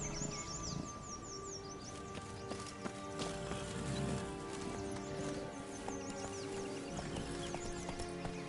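In a PS5 game, a horse gallops with steady rhythmic hoofbeats and lets out neighs, while birds chirp and ambient music plays underneath at a moderate level.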